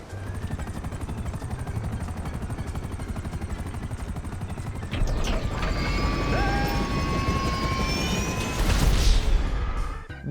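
Helicopter in Grand Theft Auto 5, its rotor a steady, loud drone that swells louder about halfway through, with rising whines and a brief burst near the end.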